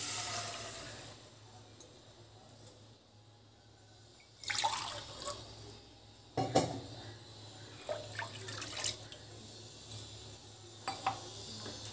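About one and a half glasses of water are poured into a wok sitting on a gas stove, giving splashing pours and drips that rise over a low steady hum. No one speaks.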